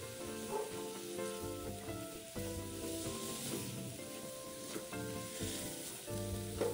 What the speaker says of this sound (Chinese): 拌炒后再加入一点清水，这可以用泡过虾米的水，